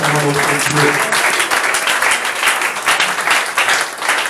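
A church congregation claps loudly and steadily in praise during a worship service, dense applause filling the hall with a voice briefly heard at the start.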